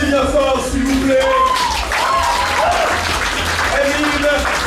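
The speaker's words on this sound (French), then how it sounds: "on applaudit bien fort s'il vous plaît" Loud audience applause at a staged theatre show, a dense continuous roar of clapping with a voice talking over it.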